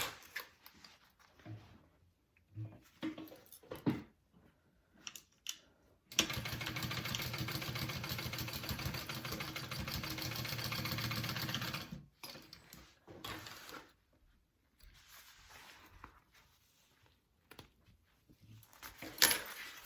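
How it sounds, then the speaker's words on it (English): A sewing machine stitches a 3/8 inch seam on backpack fabric in one steady, fast mechanical run lasting about six seconds, between quieter stretches of fabric handling and small clicks. "you're gonna sew that at a 3/8 inch seam allowance."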